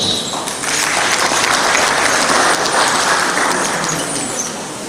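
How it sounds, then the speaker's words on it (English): Loud, sustained audience applause fills a conference hall at an international physical sciences conference, steady dense clapping holding for the whole stretch before easing slightly at the end. "What a man that deserves more applause."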